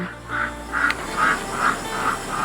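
Ducks quack in a steady series of about six calls on a misty mountain morning, fairly close and clear over quiet background, with no talking.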